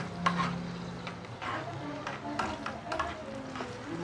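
Sausage frying in a skillet while being turned, with soft sizzling under irregular scraping and stirring knocks of a utensil against the pan, close and moderately loud.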